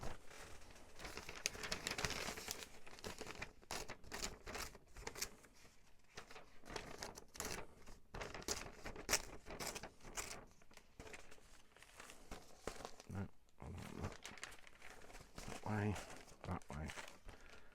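Paper or tape being gathered and torn for a folio, a long stretch of dense crinkling, crumpling and tearing rustles close by, with busy bursts throughout and brief pauses between handfuls.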